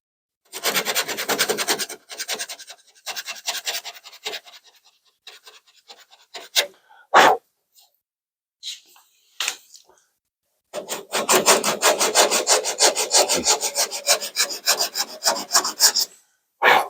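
Coarse 36 grit sandpaper scraping over a car's rear quarter panel by hand, rapid rhythmic back-and-forth rasping strokes in bursts, a quieter pause with a few scattered scuffs, then a long close run of vigorous strokes.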